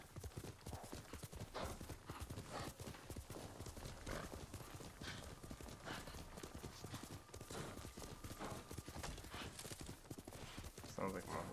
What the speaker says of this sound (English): Sounds like my horse is tired.